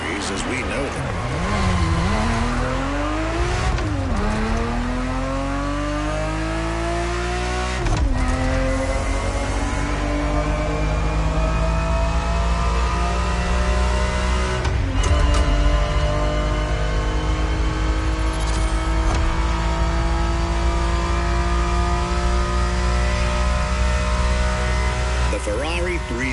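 A Ferrari 365 GTB4 in The Crew Motorfest racing game revs hard through repeated rising gear sweeps, with sharp shifts every few seconds and a constant loud engine roar throughout.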